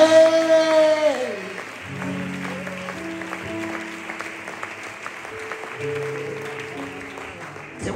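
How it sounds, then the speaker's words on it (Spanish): Congregation clapping during a church service, steady claps running under loud sustained keyboard music with shifting held chords. "¿No crees que merece ese Dios un aplauso para Él?"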